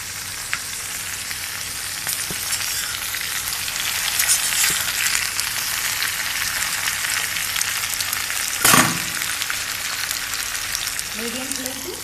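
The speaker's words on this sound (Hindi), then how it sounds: "ये देखो हमारे पास कटे परवल इस तरह से हैं, और उसको हमने तेल में अभी फ्राई कर रहे हैं।" Cut pointed gourd (parwal) frying in oil, a steady bright sizzle that swells midway, with a brief stir clatter near the end and a voice speaking over it.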